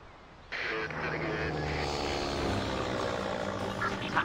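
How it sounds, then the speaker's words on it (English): An aircraft approaching a base in the Warpath mobile war game, heard as a sudden propeller engine drone that starts loud and stays steady, with a voice over it. "An aircraft is rapidly approaching our base."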